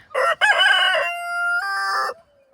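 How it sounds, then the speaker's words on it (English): A homestead rooster crows once, loud and near, in a long, drawn-out call that rises and then holds before cutting off into quiet. "This is our first experience with roosters."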